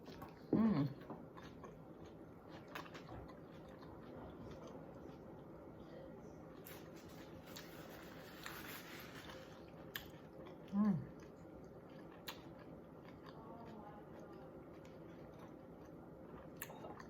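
Close, quiet chewing of crunchy keto tacos with bell peppers, with soft wet mastication and occasional sharper crunches and ticks; a few brief voiced sounds come through.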